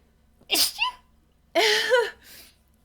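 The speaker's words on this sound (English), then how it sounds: "sneeze." Two sneezes, the second louder and longer, each a sharp breathy burst with a voiced tail, close to the listener with a short exhale after.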